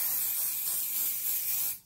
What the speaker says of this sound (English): get yourself some cheap hairspray or some fixative and spray it on